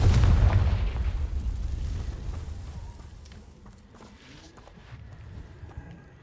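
A Confringo blasting spell detonates in Hogwarts Legacy, opening with a heavy, loud low boom that rumbles and fades over several seconds into quieter scattered game sounds, with no voices.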